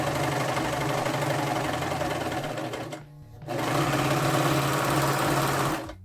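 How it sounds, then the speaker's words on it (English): Serger overlock sewing machine stitching a seam on a skirt, a loud close steady mechanical whir with a low hum that stops briefly for a moment, then restarts and runs on at the same even pace. "The magic of serging."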